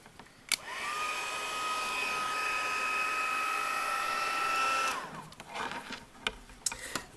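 An embossing heat tool blows continuously while heat-setting embossing powder on a card front, a close steady whirring hiss with a faint high whine. It switches on with a click, runs about four seconds, then cuts off, followed by light handling clicks.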